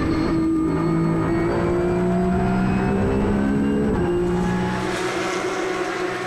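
Porsche Carrera Cup race cars lapping the Autodromo Nazionale circuit at Monza, engines loud and close with rising harmonic whines as they accelerate through the gears, one car passing and the pitch shifting near the end.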